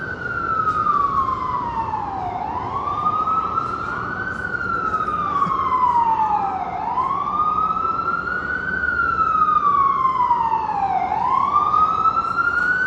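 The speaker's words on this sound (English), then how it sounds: "And we have more sirens." A loud wailing siren rises and falls in long, slow sweeps, over a constant rumble of street traffic in Manhattan, New York, on a Tuesday night.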